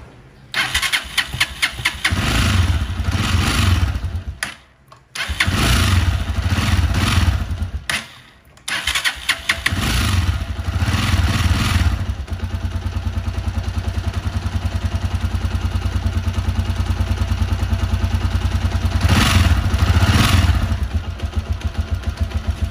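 A Honda Alpha 125 motorcycle converted to a TMX 155 engine runs loud and close, a steady low engine drone with a couple of brief cutouts near the start, then continuous idling and revving with no talk.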